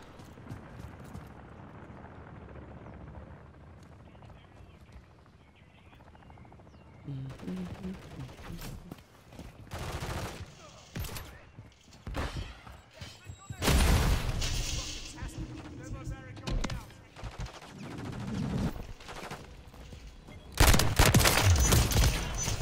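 Gunfire in Call of Duty MW3 zombies mode, with irregular bursts of shots that grow louder and denser toward the end over a steady game background.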